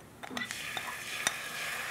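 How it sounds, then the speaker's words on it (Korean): Anchovies stir-fried in a pan for Korean myeolchi-bokkeum, giving a faint, steady sizzle broken by a few light scraping clicks of utensils against the pan. No one speaks. "계속 뭐가 치식 소리 나길래 이거 연결이 잘못됐나 생각했는데 멸치볶음 소리였네"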